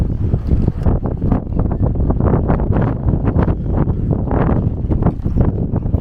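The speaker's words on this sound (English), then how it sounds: "Super windy, guys." Strong wind at Dover Castle buffeting the microphone, a loud, continuous gusty roar with rapid low thumps and no break throughout.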